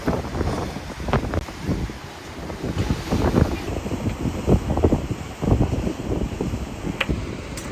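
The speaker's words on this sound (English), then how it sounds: "there's a really nice breeze coming in off the wind, as there usually is here, and it's keeping us nice and cool." A sea breeze at sunset on the coast of Guarapari, Brazil, gusting and buffeting the microphone in uneven rushes, with a faint wash of surf or water beneath, close and fairly loud throughout.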